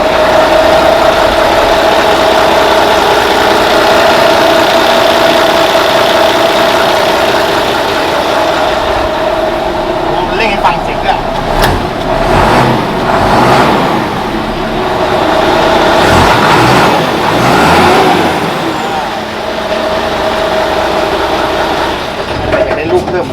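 A 240 hp Fuso dump truck from 2014–2015 idles steadily up close, then revs several times in rising and falling surges before dropping back to a steady idle.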